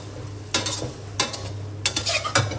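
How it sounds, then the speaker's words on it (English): Shrimp and glass noodles are tossed in a hot pan with Chinese celery and green onions, giving four scraping, sizzling stirs over a steady background hum. "Toss everything to mix the ingredients."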